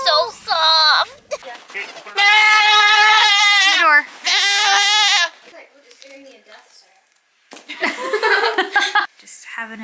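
A baby goat bleats loudly and close by, several long wavering cries in a row with short gaps between them, and a person laughs softly in the quieter stretches.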